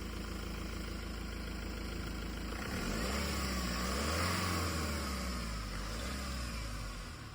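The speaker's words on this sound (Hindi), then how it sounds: "इसका इंजन का साउंड सुन लीजिए।" The 2.2-litre mHawk diesel engine of a 2022 Mahindra Thar LX 4x4 hardtop idles with a steady low clatter and drone, swelling briefly in a gentle rev before settling, heard close and loud.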